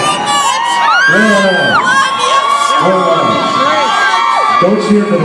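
A packed crowd at a rap concert in the State Theater, St. Petersburg, Florida, cheers and whoops loudly and continuously, with high shouts rising and falling across the whole stretch.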